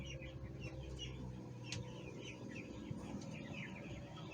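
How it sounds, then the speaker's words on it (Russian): Chicks kept outdoors in a garden plot, soft repeated peeping and clucking calls scattered across a quiet background, with a few faint sharp knocks. "Цыплятам моим тут хорошо."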